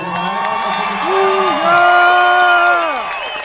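A crowd at a Halloween costume contest aboard the cruise ship Carnival Dream cheers and whoops, with voices rising and sliding in pitch, loud and sustained, building toward the middle.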